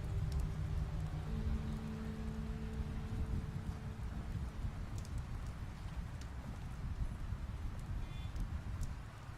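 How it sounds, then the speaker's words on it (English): Steady, soft rain falls continuously in a scene from the video game The Wolf Among Us, a dense low patter with occasional faint drips and no voices. "It's raining. When did that start?"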